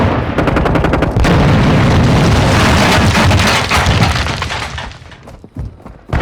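Grenade explosion amid heavy gunfire in Call of Duty: Modern Warfare II, a loud, dense barrage of rapid shots and booms that gradually fades, ending in a few scattered sharp bangs.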